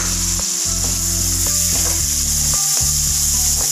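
Ginger garlic paste frying in a pan, a constant loud sizzle with repeated stirring scrapes and knocks, and no talking.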